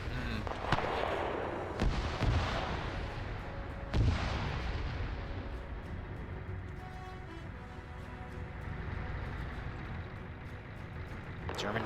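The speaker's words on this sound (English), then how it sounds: "A lot of grenades being Still thrown." Grenade explosions and gunfire fill a WW2 PvP battle in a video game, with several heavy booms and sharp shots over a sustained rumbling din at medium distance.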